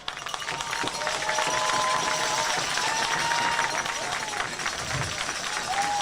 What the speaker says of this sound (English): he will almost certainly leave the mound to a round of applause from this Reedy crowd